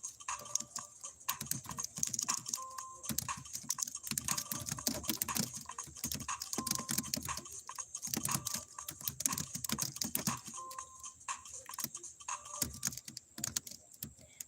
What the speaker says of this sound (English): I'm typing something if you can hear it.